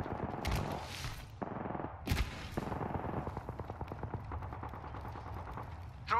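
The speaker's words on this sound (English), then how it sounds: "Where's that gunfire?" Gunfire in the Apex Legends battle royale game, a run of rapid automatic bursts with sharp loud shots, fairly near, mixed with game effects and movement noise.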